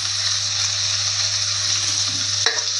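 Steady, loud sizzling of spices, onions, garlic and ginger sautéing in hot oil for chicken kurma, with a steady hum underneath and a brief clank of stirring near the end.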